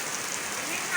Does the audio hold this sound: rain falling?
yes